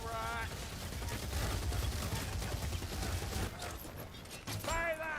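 Gunfire from the Warhammer Vermintide 2 video game, a steady dense stream of shots mixed with game sound effects, with a voice talking briefly at the start and end.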